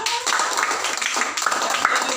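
A group of people clapping hands together during a morning meeting at a drug rehabilitation foundation in Nias, a dense, steady patter lasting about two seconds with voices faintly mixed in.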